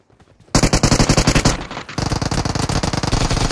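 Rapid automatic gunfire in a shooter video game, with a short quiet lead-in, then loud bursts of rattling shots in quick succession, a brief pause and another sustained volley, close and without talk.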